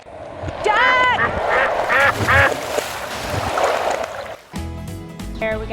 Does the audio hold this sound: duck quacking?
yes